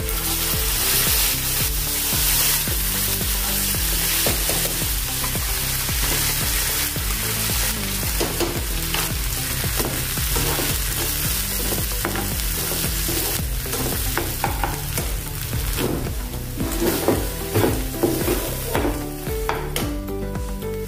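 Loud, steady sizzling and crackling of curry leaves and chutney frying in hot oil, with occasional stirring scrapes in the pan close up and no voices.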